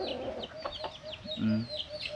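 Backyard chickens clucking nearby, soft repeated clucks and chirps over outdoor ambience, with a brief low hum in the middle.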